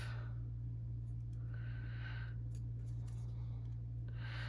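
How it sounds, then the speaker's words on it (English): Scissors trim small pieces of scrapbook paper in a few quiet, separate snips over a constant low background hum. "And I'll trim those little pieces off."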